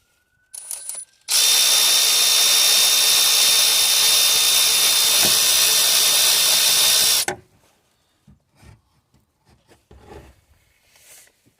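A power tool, most likely an impact driver or drill, runs loud and steady for about six seconds while removing alternator bolts on a Peugeot Partner 1.6 HDi van, with a brief burst just before and quiet clinks afterward.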